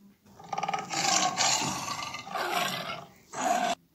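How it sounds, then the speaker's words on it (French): A tiger growls and roars in several rough, rasping bursts, loud and close, with short pauses between them. "alors qu'il chassait dans la forêt, Ali entendit un grognement"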